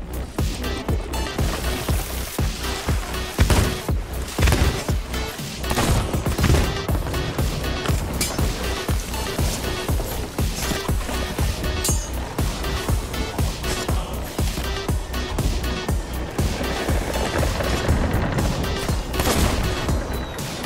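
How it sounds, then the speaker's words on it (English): Fireworks are fired in the Sea of Thieves game: a dense, continuous barrage of sharp pops and bangs over steady background game noise, loud and close for the whole stretch. "Stop shooting fireworks."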